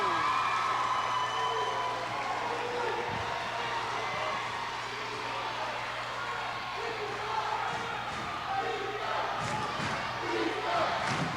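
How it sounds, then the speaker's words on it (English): A basketball crowd at a 1998 high school boys game against Andover, a dense continuous roar of cheering and shouting filling the gym, with some louder swells and whoops near the end. "Crowd's getting into it"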